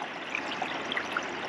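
Water trickles along a small creek fed by a pondless waterfall, a soft steady babble with scattered bright drips and splashes close by, no talking.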